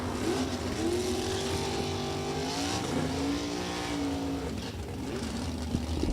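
A 1993 Ford Mustang with a 435-cubic-inch engine drag racing in Super Gas eliminations at National Trail Raceway, its loud engine note rising in pitch through the gears as it roars down the strip with crowd noise around it.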